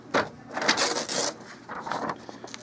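Continuous fanfold paper torn off an Okidata Microline 184 Turbo 9-pin dot matrix printer, heard as a few close, brisk ripping and rustling bursts of paper, alone without talk.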